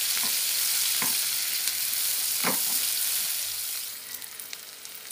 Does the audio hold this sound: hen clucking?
no